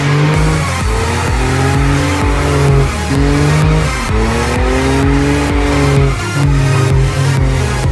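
A 10-year-old BMW F80 M3 drives hard with its engine roaring loud and close while its tires squeal in long sliding wails, revs rising and falling throughout.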